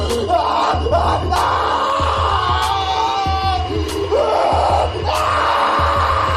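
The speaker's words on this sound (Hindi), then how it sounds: "शॉन लेजर बीम के चलते तड़पने लग जाता है और वो जोर जोर से चिल्लाने लगता है" A cartoon character screams loudly and repeatedly while struck by a laser beam, harsh drawn-out yells in several bursts over a pulsing electronic hum, close and loud.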